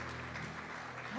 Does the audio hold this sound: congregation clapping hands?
yes